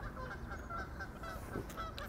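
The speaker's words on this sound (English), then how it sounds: "the geese are coming in to do their territorial battles on the island tonight" Geese honk repeatedly as they fly in over a lake island in the evening, a steady, overlapping chorus of calls at a moderate distance over a low outdoor background.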